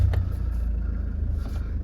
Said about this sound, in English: Just step into the car, start it up.